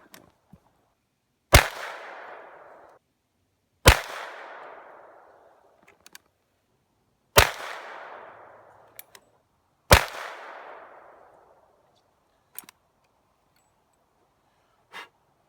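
Four loud, sharp .45 ACP gunshots from a Chiappa X Caliber with a barrel insert, each with a short decaying echo outdoors, spaced a few seconds apart, followed by a couple of faint clicks.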